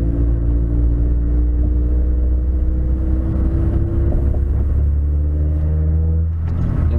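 A car engine hums steadily as the car drives toward a parking lot. A low rumble holds throughout, and the engine's pitch eases slightly before a faint clunk near the end. No one speaks.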